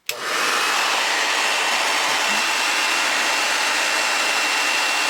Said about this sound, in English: So let's try busting in the hairdryer